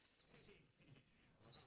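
Marsh tits chirping in a cage, two short bursts of high, bright calls at the start and end with a quiet gap between, close and alone with no talk.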